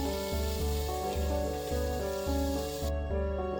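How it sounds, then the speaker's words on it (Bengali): Pointed gourd pieces coated in salt and turmeric fry in oil with a constant hissing sizzle beneath louder background music, then the sizzle cuts off near the end. "এবারে কেটে রাখা পটলগুলো নুন হলুদ মাখিয়ে নিয়ে ভাজার জন্য দিয়ে দিলাম।"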